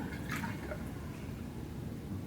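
Sterile water poured from a bottle into a basin from about eight inches above, a soft steady splashing stream with a few drips, moderately close.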